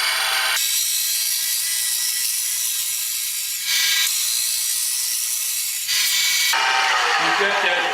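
A round nose mill bit hollows wood on a lathe, giving steady bright cutting noise in long sustained passes, broken by brief pauses near four and six seconds before shifting tone at the end.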